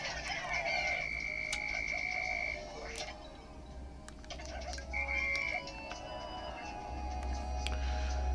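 Frog enemies croak in Pikmin 3 Deluxe, two long steady croaking tones over a dense game soundscape with low rumble and scattered clicks, moderately loud and close.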